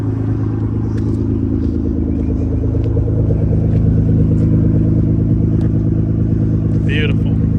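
A Nissan R35 GTR with a Pandem Rocket Bunny wide body kit idles loudly and steadily while warming up, a deep even rumble close by, with faint clicks and a brief higher squeak near the end.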